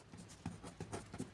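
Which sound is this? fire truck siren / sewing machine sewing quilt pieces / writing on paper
writing on paper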